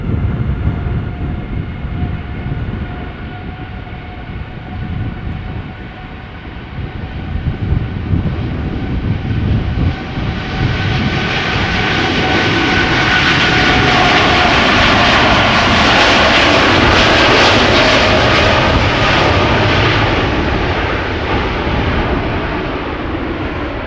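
Airbus A340 airliner approaching the center runway at Schiphol Airport, a loud, steady jet engine roar that swells as it draws nearer and peaks overhead, then holds broad and rushing, with no voices.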